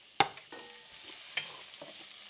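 Onions fry in a little olive oil in a pan, giving a faint, soft sizzle with a sharp utensil clink at the start and a few quieter knocks and stirs.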